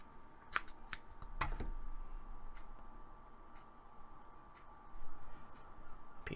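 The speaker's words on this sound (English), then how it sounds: "Cut off a little bit of cotton here." Scissors snip through a small piece of cotton wick in two or three quick, sharp cuts near the start, then low background hiss.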